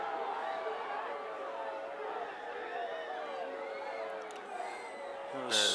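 Spectators at a high school boys soccer match on a cold evening, a distant crowd murmuring and calling out in reaction to a referee's call, under close commentary talk.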